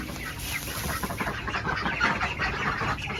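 Bresse chickens kept together in a farm pen cluck in a continuous, busy murmur, close and moderately loud, with overlapping calls and rustling and no talk.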